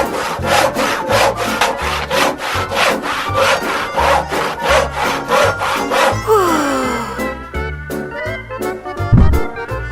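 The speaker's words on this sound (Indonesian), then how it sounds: "Gergaji adalah yang dia butuhkan." A saw works back and forth in a steady rhythm of rasping strokes, close and loud, with a few sharp clicks and a thump near the end.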